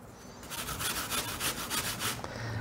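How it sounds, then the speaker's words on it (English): Peeled apples being grated on a grater for apple carrot muffins, producing rapid rhythmic rasping strokes, close and steady, about a dozen scrapes in quick succession with no voices. "I'm going to grate me a cup and a half of apples."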